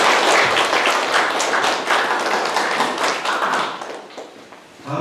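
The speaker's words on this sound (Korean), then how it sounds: "다시 한번 큰 박수 부탁드립니다" Townspeople at a town hall meeting with the city mayor break into loud, sustained applause, dense clapping from a crowd that thins and fades toward the end.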